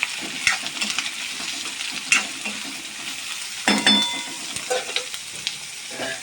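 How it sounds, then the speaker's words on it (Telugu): Onions with salt fry in a pan, a steady close sizzle broken by a few scraping stirs and utensil knocks. "ఇప్పుడు ఇంకా ఆనియన్స్ మొత్తం ఫ్రై అయిపోయింది కదా బాగా."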